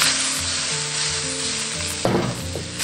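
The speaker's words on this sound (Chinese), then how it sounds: "两面金黄过后，连锅边淋一些料酒" Fish head frying with ginger in a wok gives a steady, close sizzle; about two seconds in, cooking wine splashes around the hot pan edge and sets off a sudden louder hissing burst.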